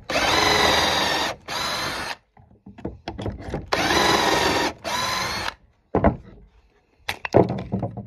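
A power drill bores holes into a barn wood bench in several loud bursts of whirring, each a second or so long, with brief clunks and handling noises in the pauses between them.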